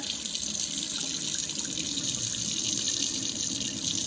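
Water runs steadily from a kitchen tap while rice is rinsed, a continuous close hiss and splash at even loudness throughout, with no talking.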